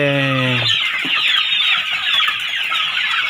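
Pradu Hang Dam black-tailed chickens on a small farm give a short, loud drawn-out call, followed by dense, close clucking and chatter from the flock.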